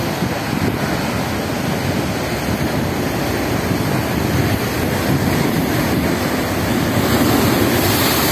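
Sea waves rolling onto Dolphin beach at Lazarevskoye in October, a steady loud roar of surf with constant wind rumble on the microphone and no talking.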